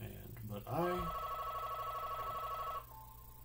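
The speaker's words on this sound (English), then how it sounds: "fax machine and the phone ringing." An indoor fax machine and telephone chime with a sustained tonal ring that rises in and holds for about two seconds, loud and near, following a brief spoken word.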